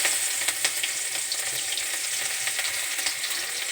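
Onions sizzling in hot oil in a kadai with panch phoron for a fish curry with raw banana, a dense continuous frying crackle close up, with light stirring and no talk.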